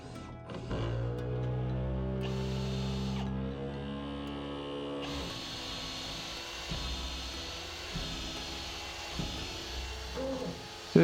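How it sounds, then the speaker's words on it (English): A drill bores pilot holes into red oak rafters, its motor whine rising and holding as a steady tonal drone, then giving way to rougher grinding bursts through the wood, fairly close. "So just get those pilot holes in, using some 4-inch screws initially here"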